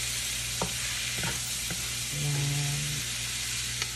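Chicken pieces lightly salted stir-fry in a pan for pancit bihon, a continuous sizzle with a few scraping stirs of the spatula and one brief spoken word.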